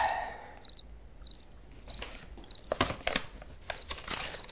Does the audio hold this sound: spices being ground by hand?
no